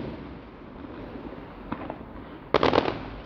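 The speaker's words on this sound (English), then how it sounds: "and there's the firework." New Year fireworks go off outdoors, a faint crackle followed by a louder sharp burst of bangs over steady background noise.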